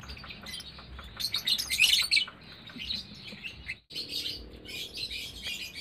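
High, bright chirps from lovebird chicks, busy and overlapping in quick bursts, fairly close, with a brief gap of quiet partway through.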